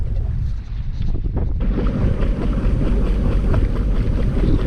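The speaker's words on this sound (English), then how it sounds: "Wind coming out, so that'll slow me down if anything." Steady, loud wind buffets the microphone aboard a sailboat off the Alaska Peninsula, a continuous low roar with a brief lull early on, with no voices.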